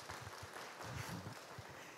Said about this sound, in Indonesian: Ya kita beri tepuk tangan Bapak.